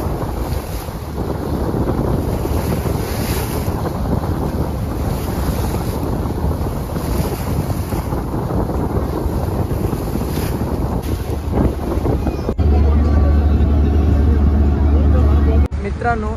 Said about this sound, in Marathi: समुद्राच्या लाटेचा आवाज ऐकूया